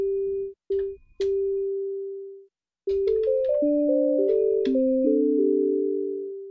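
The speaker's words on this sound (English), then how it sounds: "At the moment, we're only working with a sine wave, which is the waveform that all the FM operators output." Pure sine-wave tones from a single-operator FM patch on a Liven XFM synth: a few short beeps, one held note, then a clean melodic run of overlapping notes with short release tails, clear and isolated.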